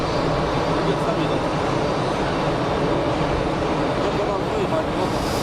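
An Embraer airliner at Geneva Airport, its engine noise a steady broadband roar with no clear rise or fall, with someone talking over it.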